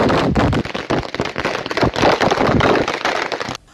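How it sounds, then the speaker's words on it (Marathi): Firecrackers burst at a BJP celebration in Hodgi near Solapur, held after a Lok Sabha candidacy was announced. A loud, dense, rapid crackle of many small blasts runs nonstop for over three seconds, then stops abruptly. "होडगीत फटाके फोडून घोषणा देऊन जल्लोष करण्यात आला"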